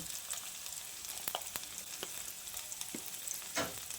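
Onions frying in a pan with ginger-garlic paste and a pinch of asafoetida, a steady close sizzle punctuated by several sharp spatula scrapes and taps, quiet with no talking.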